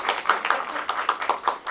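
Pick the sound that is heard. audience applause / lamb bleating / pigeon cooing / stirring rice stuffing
audience applause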